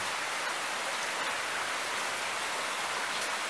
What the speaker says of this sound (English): Waterfall's going.